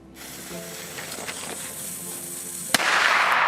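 A larger firecracker held between the fingers fizzes with a hissing fuse, then bursts in one sharp crack followed by a loud hissing spray, close and without voices.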